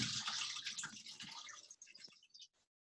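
Soaking water from beans pours and splashes into a strainer set in a kitchen sink, a steady gush that thins to trickles and drips before stopping.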